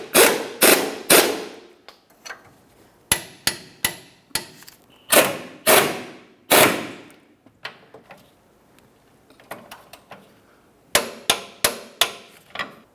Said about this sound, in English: Now we can snug each of these and then torque them to 100 foot-pounds.